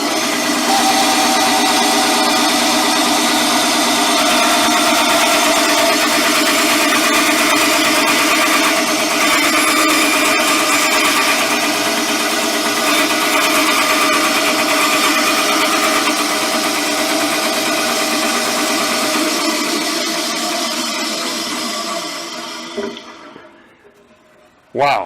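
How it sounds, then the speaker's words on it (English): A bandsaw cuts through a sheet of soft lead in a workshop, a loud, steady whining drone with tonal ringing that runs for over twenty seconds before the motor spins down to silence. "So I thought, lead is soft. Let me go ahead and try and cut it on the bandsaw."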